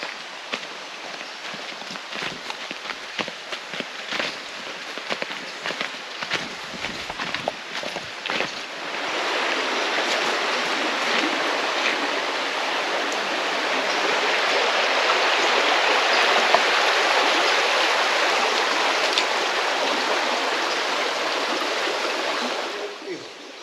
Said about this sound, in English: This is the base of the river